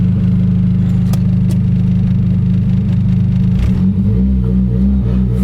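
A Dodge SRT4 engine runs loud and close, holding a steady low rumbling idle, then its pitch shifts and wavers slightly near the end as if blipped or loaded.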